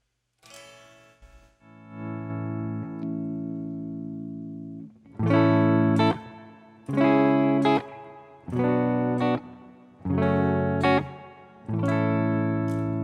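An electric guitar plays sustained chords through AmpliTube 5 simulations of 1965 Princeton and Deluxe Reverb amps, first a long held chord, then several strummed chords separated by short breaks.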